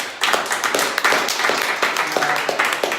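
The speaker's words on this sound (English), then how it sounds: "So let's give the panelists a round of applause." Audience applause for a panel at a Denver dating event, a dense, steady patter of many hands clapping at close range with scattered louder claps throughout.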